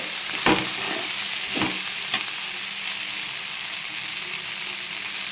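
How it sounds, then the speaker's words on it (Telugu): Broad beans frying in a pan give a steady, fairly loud sizzle with a few short stirring clatters near the start, and no one speaks. "చిక్కుడుకాయలు అనేవి కొంచెం ఫ్రై అయ్యాయండి"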